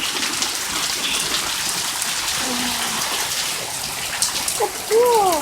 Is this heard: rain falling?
yes